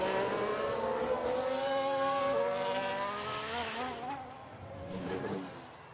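Race cars in F1 Manager 22 scream past with rising and falling engine pitch, tyres squealing as one crashes, the loud roar fading toward the end.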